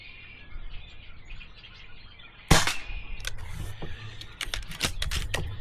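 An Umarex Notos air rifle fires a single sharp pellet shot midway through, heard outdoors over quiet background noise and scattered bird chirps.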